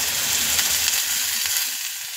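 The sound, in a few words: onion and tomato frying in a pan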